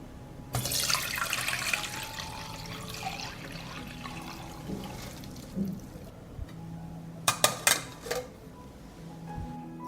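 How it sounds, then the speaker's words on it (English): Cooled homemade nettle tea is strained, with a trickle of liquid running and splashing for a few seconds, then a few sharp clinks and taps near the end. No one speaks. "The nettle tea has cooled, and I will strain it."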